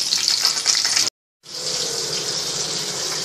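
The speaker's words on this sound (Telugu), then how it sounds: "ఇలా గోల్డెన్ బ్రౌన్ వచ్చేంత వరకు కూడా ఫ్రై చేసుకొని తీసుకోవాలండి." Shrimp fry in hot oil until golden brown, giving a loud, dense, close sizzle that cuts out briefly before the crackling resumes steadily.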